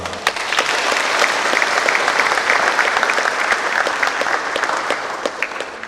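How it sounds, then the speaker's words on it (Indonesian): An audience at an Indonesian 80th-birthday lecture event bursts into steady, loud applause that holds for about six seconds, a dense crowd of clapping with no talk over it. "mari kita sama-sama berikan tepuk tangan untuk beliau"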